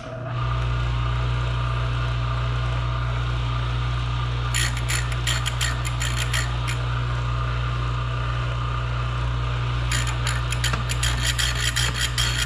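Rasping strokes of a file on Manley/Total Seal piston rings for a 1999 Mustang GT engine, heard in two short bursts of quick repeated strokes over a loud steady machine hum, with no talk.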